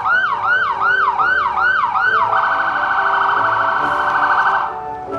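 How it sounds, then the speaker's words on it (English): An ambulance siren in a holiday parade, loud and close, first a rapid rising wail repeated several times, then a sustained steady tone that cuts off near the end. "And a second ambulance to follow the first."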